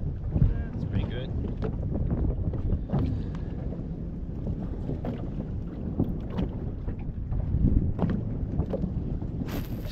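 Wind buffets a fishing boat on Moreton Bay, producing continuous rough gusting and microphone rumble with some knocks and water movement. A voice is faintly heard in the mix.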